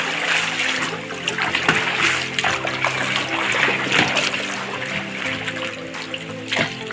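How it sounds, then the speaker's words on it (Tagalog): River water splashes and churns nearby in a steady, lively wash, with small bursts of spatter rising and falling and no talk. "Ito ang tubig guys."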